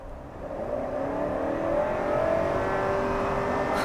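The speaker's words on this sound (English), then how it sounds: "from zero, we're going to go floor it" A 2020 Honda CR-V 2.0 hybrid winds up steadily under full-throttle acceleration from a standstill, its whirring pitch climbing smoothly from inside the cabin, with no talking.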